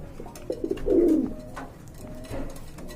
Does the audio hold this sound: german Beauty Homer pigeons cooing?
yes